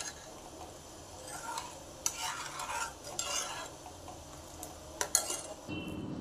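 A spoon stirs vegetable soup thickened with cornflour slurry in a pot, making quiet scrapes and sharp metallic clinks at irregular moments over a faint simmer.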